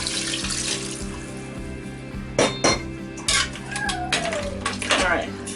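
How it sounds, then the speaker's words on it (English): Water is poured into a pressure cooker holding oxtail with pimento seeds, thyme and pepper, a steady running splash close by, broken by a few sharp metallic clanks of pot and utensils. "I'm just gonna go ahead and add the rest of the water in there."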